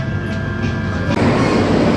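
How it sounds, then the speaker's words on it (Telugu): A KTM train arriving at Batu Caves station in Malaysia rumbles loudly and steadily close by, with a continuous low roar and rattling that swells slightly near the end. "మన ట్రైన్ అయితే వచ్చేసింది బట్టు కేవ్స్."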